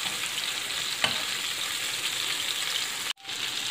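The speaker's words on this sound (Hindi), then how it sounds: "जी मीट बॉल्स फ्राई हो चुके हैं।" Meatballs frying in a pan give off a steady, close sizzle, with one brief clatter near the start and a short dropout just after three seconds.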